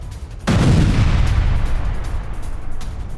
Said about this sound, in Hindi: जोरदार धमाका होता है और सब कुछ खत्म